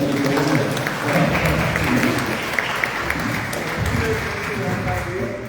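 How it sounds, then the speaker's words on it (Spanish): An audience applauding at a poetry gathering honouring writers, a sustained stretch of clapping from a roomful of people, with a voice talking over it. "40 libros, un aplauso es poco."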